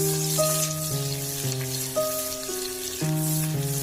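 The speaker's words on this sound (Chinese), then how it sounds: "然后多炒一会儿，炒至五花肉变金黄，把五花肉炒熟" Pork belly stir-frying in a wok gives a bright, crackling sizzle that runs throughout beneath prominent stepped musical tones, fairly loud and continuous.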